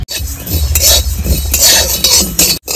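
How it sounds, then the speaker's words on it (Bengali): Black mustard seeds being stirred in a hot kadai for katla kasundi, a loud, close run of metallic scraping and clinking strokes that keep going without pause and with no talking. "একটু নেড়ে চেড়ে নেব কড়াইয়ে"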